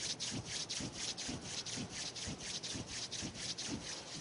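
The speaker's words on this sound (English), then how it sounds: "And rub your hand warm." Two hands rub briskly together to warm them, a steady back-and-forth swishing with an even rhythm of roughly two strokes per second, close and clear with no talking.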